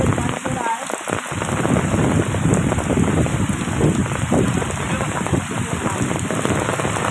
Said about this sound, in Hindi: बहुत ज़्यादा बारिश हो रहा है, तेज बारिश हो रहा है